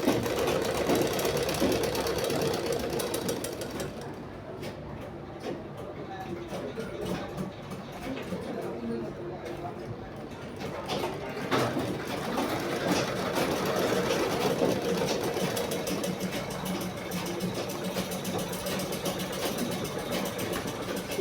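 A sewing machine stitches a blouse shoulder seam, a close, steady rapid mechanical whirring and ticking that runs continuously, briefly easing in the middle before picking up again.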